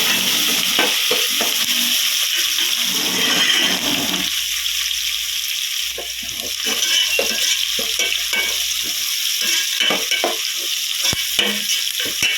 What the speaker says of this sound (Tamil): வெங்காயம் இதெல்லாம் வதங்கிக்கிறோம்.